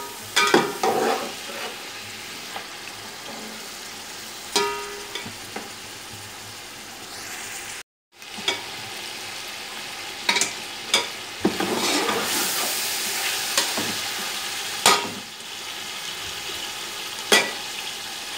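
Chicken fries on a high flame for biryani pulao, a steady close sizzle broken by scraping stirs and occasional clanks of a spoon against the pot.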